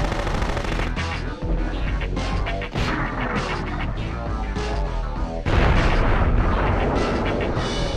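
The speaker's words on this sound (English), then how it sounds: "Fire the mortar!" Heavy, continuous battle noise from the PS1 game Future Cop LAPD as a mortar fires, with dense booming explosions and rapid gunfire-like bursts that never let up, swelling louder toward the end.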